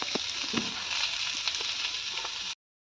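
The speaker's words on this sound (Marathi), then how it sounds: "आता त्यात कांदे टाकून घेऊया कांदे चांगले आपल्याला भाजून घ्यायचे आहे काळे करून घ्यायचे आहे" Onions roast in oil on a tawa over a wood-fired chulha, making a steady, bright sizzle with small crackles and pops before it abruptly cuts to silence.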